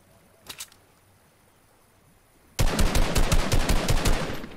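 Rapid burst of gunfire in the video game Fortnite, a quick run of loud, closely spaced shots following a brief faint pop, with no talk over it.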